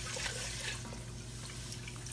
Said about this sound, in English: we're going to pour some water in here